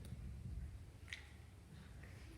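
A single quiet finger snap cracks once in a hushed room during a card trick at a high school talent show, brief and crisp against a low background murmur.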